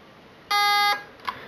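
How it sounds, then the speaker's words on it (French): An airsoft mosfet emits a single clear electronic tone lasting about half a second, followed by a faint, short blip, close and alone. "Trois bips, j'appuie une fois. J'attends le long bip."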